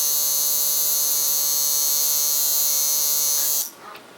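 Tattoo machine buzzing fast at a higher voltage, a steady loud, close electric whine that holds evenly for over three seconds and then cuts off abruptly.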